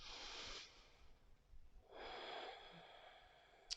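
Soft breathing during a slow yoga flow held in a low lunge: two airy breaths, a longer one and then another after a short pause, quiet and close.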